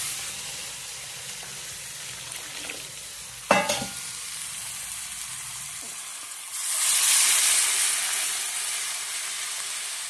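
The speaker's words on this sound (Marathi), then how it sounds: "आता ते पाणी ॲड करणार" Tomato saar sizzles steadily in a pan, then a sharp clatter comes, and after water is poured in the hiss swells into a louder, bright steaming rush that carries on to the end.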